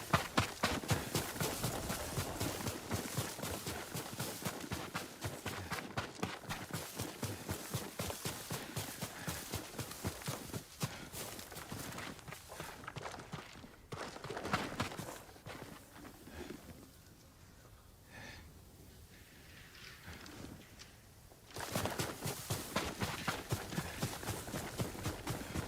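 Horse hooves in the video game Ghost of Tsushima clop in a fast, steady rhythm, pausing briefly midway before the galloping resumes, with birds cooing faintly in the background.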